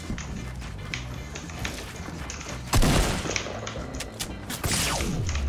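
Heavy assault rifle fire in the video game Fortnite, a mix of scattered near and distant shots that swells into a loud, dense burst around the middle and again near the end, over a steady layer of game sound.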